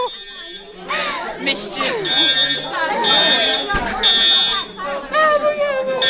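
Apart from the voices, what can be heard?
fire alarm ringing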